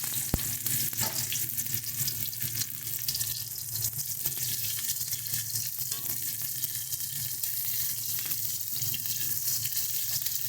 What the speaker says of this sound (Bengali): এবার এই মাছ ভাজা তেলের মধ্যে পেঁয়াজ ফোড়ন দিয়ে দেবো।